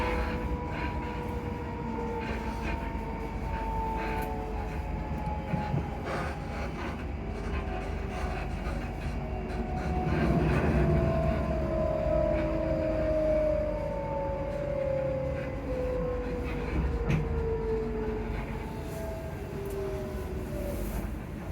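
Traction motors on a Class 334 electric train hum in rising and falling tonal whines as it runs near Edinburgh Park, heard steadily from inside the carriage over rumbling wheel noise.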